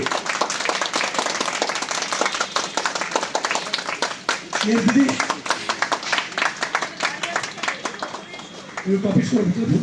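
A crew and cast clapping on the shooting set of a Bengali TV serial: steady, dense applause from a group throughout, close and lively, with voices talking over it at times.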